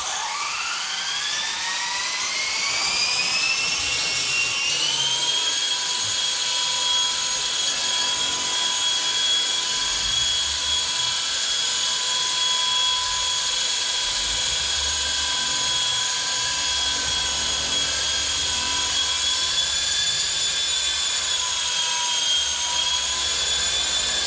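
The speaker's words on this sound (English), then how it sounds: "Very big, very bulky, this helicopter." A WL Toys V913 brushless RC helicopter spools up with a rising whine, then holds a loud, steady high-pitched rotor and motor drone while it flies nearby in a confined space.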